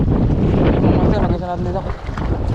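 Strong wind buffets the microphone on a small fishing boat out on open water, a steady roaring rush with a brief tonal whine in the middle.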